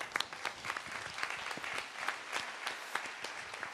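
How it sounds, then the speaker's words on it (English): Conference audience applause, a fairly quiet and slightly distant patter of individual claps with audible separate hand strikes, sustained evenly from start to finish. "Applause."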